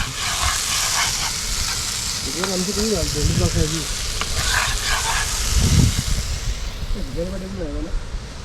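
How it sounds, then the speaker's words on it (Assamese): Potatoes fry in a pan at an overnight campsite in Meghalaya, giving a steady, close sizzle throughout while people talk over it. "আমাৰ ব্ৰেকফাষ্ট হৈ আছে আলু ভাজা বিলাহী আলু ভাজা ন আলু ভাজি বনাইছ"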